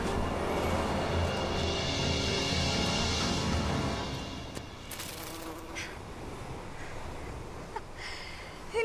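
A wasp buzzes close by in a steady drone that fades after a few seconds, leaving quieter background noise with a few faint clicks.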